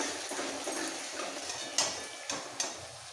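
Spices with red chili powder frying in oil in a pan, a soft steady sizzle broken by several sharp scrapes and clacks of a spoon against the pan as they are stirred, close by with no talking.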